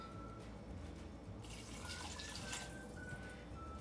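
Water poured from a cup into a pot of peanut and sweet potato soup in a home kitchen, a steady close splashing pour that swells midway and runs for a few seconds with no talking.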